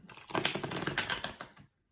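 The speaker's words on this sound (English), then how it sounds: "Worst shuffle possible." Tarot cards being shuffled by hand, a dense run of crisp papery riffling clicks lasting about a second and a half, close and fairly loud, then cutting off to silence.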